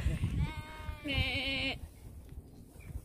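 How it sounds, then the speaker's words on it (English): A ewe bleats twice in quick succession on the Ridgeway trail, a wavering call followed by a louder, higher one, fairly close over outdoor background noise. "That'll be a mum sheep going, would you come here and do as you're told?"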